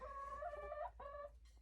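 Chickens cluck and squawk in short, rising bursts, two drawn-out calls in a row followed by a faint trailing cluck, fairly close with no talking.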